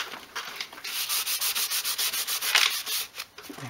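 Cloth wiping a Karcher K2 power washer part with glass cleaner: rapid repeated rubbing strokes, close and steady, a dry swishing rhythm of about a dozen passes, no talking.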